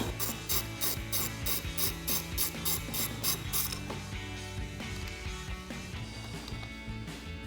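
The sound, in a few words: socket ratchet tightening a battery terminal nut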